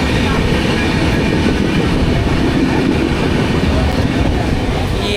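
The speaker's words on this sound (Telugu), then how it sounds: "ట్రైన్ స్టార్ట్ అయింది" A train rolls along the Konkan line from Madgaon toward Kulem, a loud, continuous rumbling roar with a faint rhythmic clatter of wheels, heard close up from onboard.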